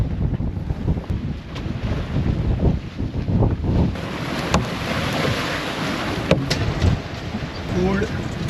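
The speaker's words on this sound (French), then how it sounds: "20 nœuds, ça souffle." A 20-knot wind buffets a sailboat beating upwind into very short head swell at sea, roaring steadily with gusty bursts and splashing water, while someone speaks intermittently over it.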